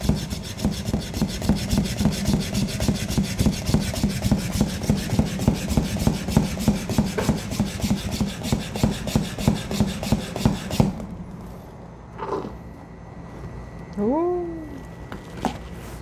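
Milk whisked by hand into cold foam for an iced drink: a fast, steady rubbing and scraping rhythm, close and loud, runs for about eleven seconds, then stops and leaves a quieter stretch with a brief voice.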